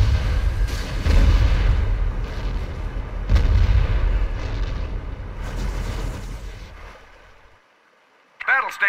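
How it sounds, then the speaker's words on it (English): Warship main battery guns firing in the video game Zero Hour, a run of heavy booming salvos with rumbling low-end decay, loud and close, dying away near the end before a brief tonal game effect. "Fire. Main batteries, engage."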